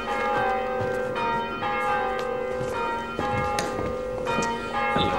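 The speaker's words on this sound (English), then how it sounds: "Bell ringing practice." Church bells ring out repeatedly during bell ringing practice, several overlapping strikes in an even sequence, clear and fairly near with no voices.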